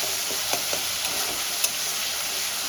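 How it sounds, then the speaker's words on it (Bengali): Spice masala with tomato sizzles steadily in a hot pan as it is sautéed, a constant close frying hiss broken by a few soft scrapes of stirring. "এবার আমি ভালো করে কষাতে থাকবো"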